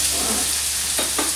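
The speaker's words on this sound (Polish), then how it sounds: "Wrzucamy cebulę na patelnię." Onion sizzling in a frying pan, a steady bright hiss of hot oil close up, with a couple of brief stirring scrapes near the end.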